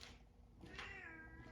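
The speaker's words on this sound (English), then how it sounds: "Hi, cat." A house cat gives a drawn-out, rising meow close by, plainly heard over faint background noise, with no talking.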